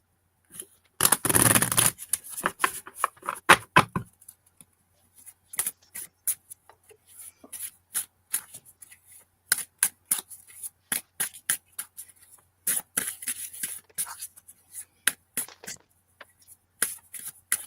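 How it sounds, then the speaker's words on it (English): Tarot cards being shuffled close up: a burst of riffling, then a long series of short snaps and flicks as the deck is cut and handled. "Don't you just love the sound of shuffling?"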